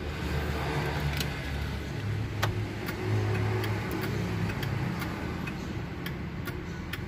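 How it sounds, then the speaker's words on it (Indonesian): A Toyota Land Cruiser FJ with manual transmission has its turn signal switched on, and the indicator ticks in a steady, evenly spaced rhythm over the low hum of the idling engine. Nobody speaks. "Ini untuk sen ya, untuk sen."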